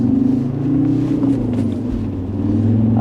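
An Alfa Romeo 166 diesel car pulls away and accelerates on the road, its engine giving a steady, loud low rumble that climbs gently in pitch, heard from inside the cabin with no talk.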